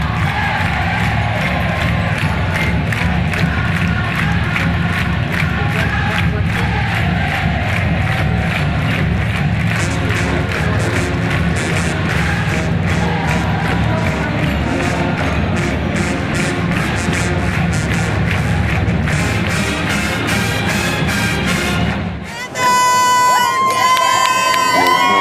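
A college marching band plays loud pep music from the stands at a Panthers football game while the crowd cheers. The sound is continuous and dense, with a brief dip and a sharp shift in the music near the end.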